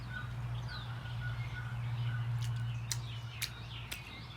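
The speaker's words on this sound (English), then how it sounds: "And the birds." Birds call and chirp in rural Louisiana, faint scattered chirps and short whistles over a steady low hum, with a few sharper high tweets toward the end.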